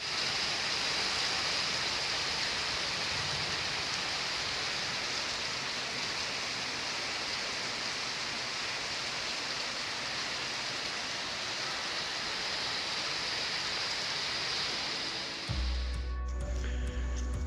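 Heavy rain falls on a warm night in Saigon, Vietnam, a steady, dense hiss of water that stays even in loudness for about fifteen seconds before a sudden cut to a low hum.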